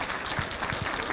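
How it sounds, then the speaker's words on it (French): An audience at a town mayor's New Year greetings ceremony applauds in a dense, steady burst of many hands clapping at once, filling the room for the whole moment. "je voulais qu'on les applaudisse pour leur combat."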